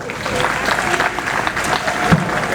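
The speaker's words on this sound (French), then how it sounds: "On applaudit très très fort." An audience at a theatre and comedy celebration applauds in a dense, sustained wash of clapping, fairly loud and close, with faint voices mixed in.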